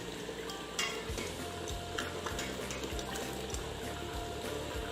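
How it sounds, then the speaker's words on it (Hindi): Rice with jaggery and water simmers in a pot as the water boils down, a dense, continuous bubbling and sizzling with soft rhythmic ticks and stirring sounds, close and fairly loud, with no one talking. "चावल बहुत अच्छे से पक रहे हैं और पानी खुश्क होने वाला है"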